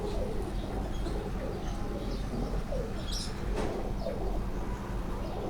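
Breeder pigeons coo repeatedly at a pigeon fancier's home loft, soft rolling calls rising and falling over steady low background hum, with a few sharper chirps mixed in.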